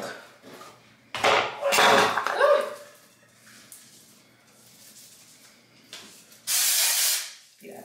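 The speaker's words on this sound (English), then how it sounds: "I just need to go put on the spray." Body spray from an aerosol can, several short hissing bursts close to the microphone separated by quiet gaps, with faint handling noise between sprays.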